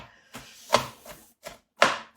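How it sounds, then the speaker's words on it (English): A kitchen knife chops onions on a board for a corned beef and potato pie, giving five or six sharp, evenly spaced chops that are close and clear, with no talk. "when you're chopping onions"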